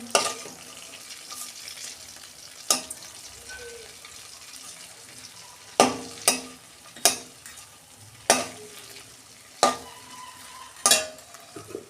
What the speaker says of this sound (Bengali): দেখুন বন্ধুরা, মাছগুলো আমি উল্টে দিচ্ছি